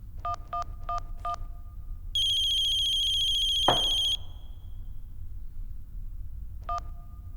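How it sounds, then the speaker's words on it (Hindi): A telephone rings in short repeated electronic bursts, then a long shrill high tone sounds with a thud, and the ring returns briefly at the end. "जब फोन की घंटी बजी तो 2 जगह घंटी बजी थी,"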